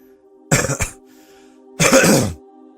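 Two close throat clears, a short rough one followed by a longer harsh cough, over a faint steady hum.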